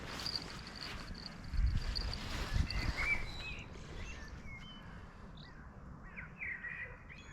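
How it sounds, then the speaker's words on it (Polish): Birds call faintly outdoors, with scattered chirps and a few brief cries against a quiet background of low rumble; no voices are heard. "I taka cisza, ptaszki jeszcze grają."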